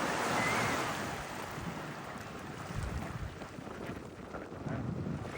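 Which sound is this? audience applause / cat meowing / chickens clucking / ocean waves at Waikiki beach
ocean waves at Waikiki beach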